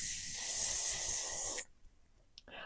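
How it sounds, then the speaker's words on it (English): A close, loud hiss of workable hairspray sprayed onto hair, one continuous burst of about a second and a half that then cuts off, leaving quiet with a couple of faint small sounds. "My go-to hair product will always be this Kristen S workable hairspray."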